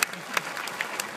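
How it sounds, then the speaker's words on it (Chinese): An audience claps in a short burst of applause at an outdoor military demonstration by a guard company's motorcycle and military dog units. "请掌声鼓励。"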